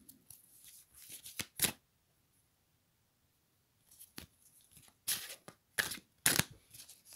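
Tarot cards shuffled and cut by hand: a couple of short riffling bursts, a quiet gap, then several crisp, louder slaps and flutters of the deck, close and clear.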